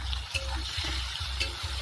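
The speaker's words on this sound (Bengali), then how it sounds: "পেঁয়াজ আদা রসুনগুলো দিয়েছি, এখানে এগুলো ভালো করে একটু কষা হোক" Onion, ginger and garlic sizzle in a pan of oil, with soft rhythmic stirring thumps under a steady hiss and no speech.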